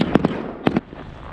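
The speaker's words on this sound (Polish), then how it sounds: "Tak samo jak i w Polsce, tutaj też petardy" Firecrackers and fireworks bursting on New Year's Eve in Nuuk, Greenland, with a few sharp, loud cracks coming in quick pairs and no voices.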